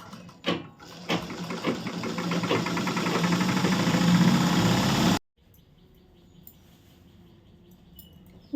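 A motorised sewing machine stitches a boat-neck blouse, running in a fast, steady mechanical rattle for about five seconds before stopping abruptly, leaving quiet room tone.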